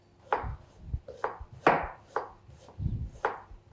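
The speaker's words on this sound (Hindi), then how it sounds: "अब प्याज फाइनली चॉप करना है।" Onion being finely chopped with a knife on a board, six or seven crisp, close chops at an unhurried, slightly uneven rhythm, each with a short crunchy burst.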